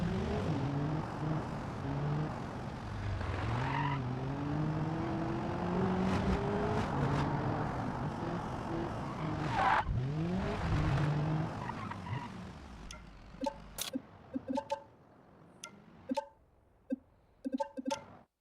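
A Corvette in BeamNG.drive runs under steady engine drone with rising and falling pitch for about twelve seconds. It then drops to quiet, with sharp clicks and thumps near the end.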